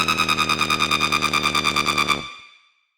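Screech bass synth patch built in Xfer Serum with FM: a rapid, evenly pulsing buzzy tone with bright stacked harmonics repeating for about two seconds, then cutting off into a short fading tail.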